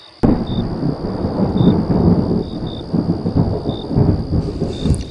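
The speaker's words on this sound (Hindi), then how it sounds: "अचानक आसमान से बादल भर आया और गरज के साथ बारिश होने लगी।" Heavy rain pours steadily in a Hindi cartoon adventure while a low thunder rumble rolls beneath it, loud and close throughout.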